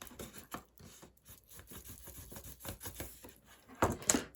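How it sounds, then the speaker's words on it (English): Soft, dry rubbing and scraping strokes come in an irregular rhythm as a tool burnishes paper or card on a handmade cracker box, close and quiet, with a few louder scrapes near the end. "I'm just going to go round and burnish all of them again now"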